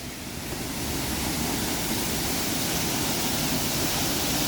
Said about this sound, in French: Oh, regardez cette cascade là.